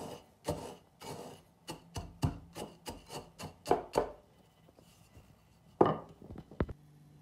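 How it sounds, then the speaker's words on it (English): Digestive biscuits are ground and smashed in a series of sharp, crunching knocks and rubs. The strikes come in quick bursts, then pause before a few final louder hits. "Grind your digestive biscuits."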